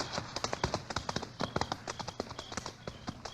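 Horse hooves clip-clop in a quick, steady rhythm on a hard surface, close by and clear, with a few brief sounds between the steps.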